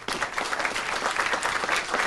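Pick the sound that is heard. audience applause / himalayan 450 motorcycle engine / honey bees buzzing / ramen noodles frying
audience applause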